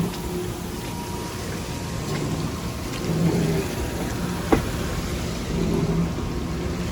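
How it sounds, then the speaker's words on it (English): Water splashes and churns inside a rooftop cooling tower beside a kitchen exhaust system, a constant rushing wash with occasional louder surges and a single sharp knock partway through. "Hear the water splashing around in there."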